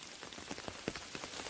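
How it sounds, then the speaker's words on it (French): Rain patters on an umbrella in a mixed broadleaf and conifer forest in October, with irregular close drops tapping over a soft, steady wash. "je m'excuse pour le bruit de la pluie sur mon parapluie"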